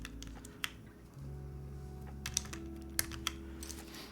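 Keystrokes on a Wind x98 R2 mechanical keyboard with a left-aligned numpad, a few soft, scattered clicks and clacks over a steady low background hum, fairly quiet.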